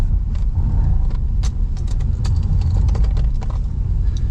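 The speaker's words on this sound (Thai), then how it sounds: "กับชุดท่อสูตรยูโรอาร์เอ็กซอสนะฮะ เสียงซุปเปอร์คาร์" A Ford Mustang engine fitted with a Euro Arts exhaust, a deep steady idling rumble heard close and loud, with light clicks and rattles over it and no talk.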